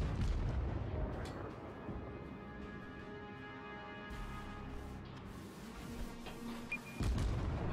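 Deep, rumbling booms of heavy naval artillery fire from the World of Warships video game roll through a constant low engine-like drone, with a sharper blast near the end, loud and without speech.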